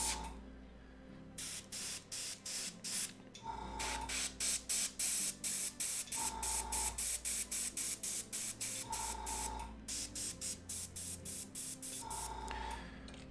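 An airbrush spraying paint onto a dwarven hunter miniature bust: soft hissing bursts in quick repeated pulses, grouped into several runs separated by short pauses, close and quiet.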